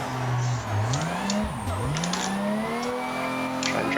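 A Toyota Supra drifting in third gear roars loudly, its revs swooping up and down, while tires squeal briefly over the engine noise.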